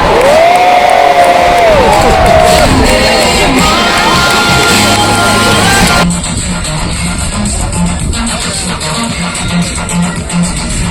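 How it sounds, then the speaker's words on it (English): Large outdoor air show crowd cheering, whooping and applauding as a jet returns after a half Cuban manoeuvre, a dense continuous roar with shouting children, slightly quieter after the first half. "Do keep up the applause"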